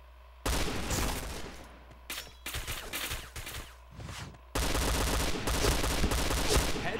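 Dense bursts of automatic gunfire in a shooter game arrive in long sustained volleys broken by short gaps, loud and close, ending in an extended rapid barrage; no talking is heard.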